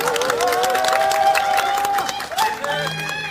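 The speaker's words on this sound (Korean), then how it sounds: "뜨거운 환영의 박수 부탁드립니다" Welcoming applause and cheers rise from a crowd at a press conference held during a visit to Suam Market in Ulsan, the clapping running steadily beneath bright tonal sounds that swell and shift throughout.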